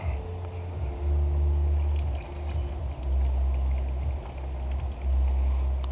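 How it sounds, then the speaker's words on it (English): Fluid drips and trickles from the power steering reservoir of a 2004 VW Beetle Convertible into a drain pan, a steady wet pouring under a low, pulsing engine-bay hum. "Got the power steering reservoir emptied."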